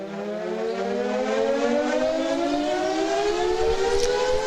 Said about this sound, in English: sirens go off in the capital of Pakistan